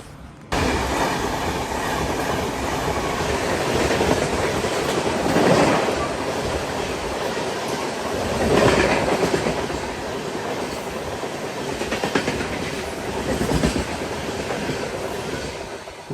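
Inside a moving express train between Miraj and Kolhapur, a loud continuous rumble of wheels on rail carries rhythmic clickety-clack and swells in intensity over the sixteen seconds, with no voices heard.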